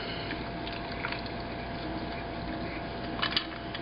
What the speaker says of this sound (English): So we will begin pouring the coffee.